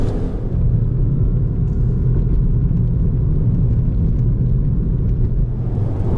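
A Volkswagen Golf GTI Mk7 hot hatch pulls hard out of a corner at full throttle, its engine a loud, steady, deep drone heard from inside the car with no voices.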